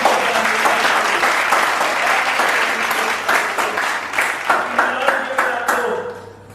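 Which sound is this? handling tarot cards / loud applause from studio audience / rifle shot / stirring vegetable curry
loud applause from studio audience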